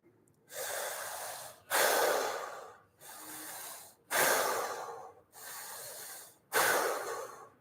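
Six slow, deep breaths during a guided fascial maneuvers exercise, each a long, loud inhale or exhale through the nose, separated by short pauses, close to the microphone with no talking.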